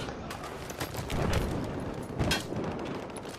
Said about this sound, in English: I am taking fire from somewhere